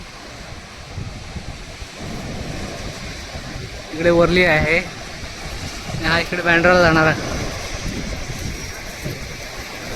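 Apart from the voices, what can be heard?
rough sea waves at Worli Fort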